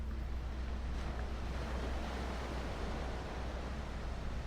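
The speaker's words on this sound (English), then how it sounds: "you can hear the waves crashing beneath you" Steady, distant roar of ocean surf with wind rumbling, a continuous wash of waves without distinct individual crashes.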